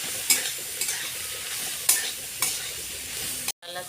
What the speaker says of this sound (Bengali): সয়াবিন আর একটু হলুদ দিয়ে দিচ্ছি, ভালো করে সয়াবিনটা ভেজে নেব।